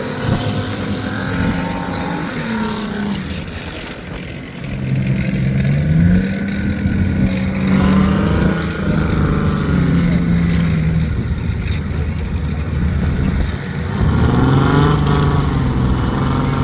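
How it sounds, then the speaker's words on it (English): An Abbot 105mm self-propelled gun on tracks drives around at a display, its engine droning loudly with rising and falling revs and rumbling, heard up close throughout. "We've got an Abbott going around, looks like a tank, but it's really a self-propelled gun"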